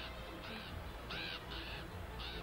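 Birds in the video game The Grinch caw in four or five repeated harsh calls over a steady background hum of game ambience.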